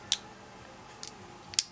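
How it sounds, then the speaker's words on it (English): Small scissors on a Victorinox Swisstool RS multitool make three crisp, quick snips at uneven intervals against a quiet background. "This is the pair of scissors."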